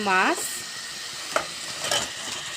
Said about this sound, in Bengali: এখন এটাকে ভালো করে কষিয়ে নেব।